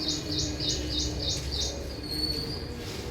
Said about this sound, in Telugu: చెట్టు మీద చూడండి ఎన్నో పక్షులు